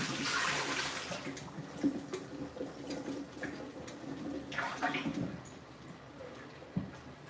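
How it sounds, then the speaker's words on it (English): Water splashes and gurgles softly as it is poured into a pot of cabbage in a home kitchen, fairly faint, with a few small clinks. "I'm gonna put some water in it, then I'm gonna let it cook down a little bit."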